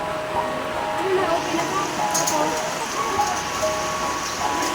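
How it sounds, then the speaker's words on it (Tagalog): Heavy rain pours in a constant broadband wash, with faint tonal sounds drifting in the background. "Malakas ang ulan."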